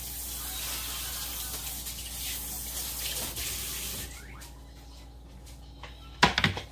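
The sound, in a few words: rinsing tomato under running faucet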